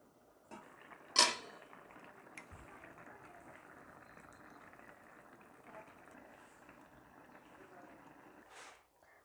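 A pot of hilsa fish curry with okra simmers quietly, a faint steady bubbling hiss with a single metallic clink of the lid early on.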